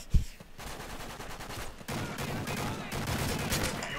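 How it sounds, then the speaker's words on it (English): A player's gun in Modern Warfare 3 fires in dense, rapid automatic bursts, harsh and close. One sharp thump opens the stretch of continuous shooting. "that's terrifying hearing my gun go off"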